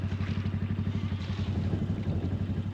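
Quad bike engine running on an Australian sheep farm, a close, chugging mid-pitched putter with a steady rapid pulse throughout, no talk over it.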